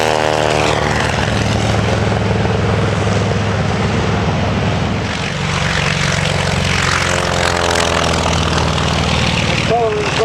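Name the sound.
WWII propeller aircraft flying at Virginia Beach airshow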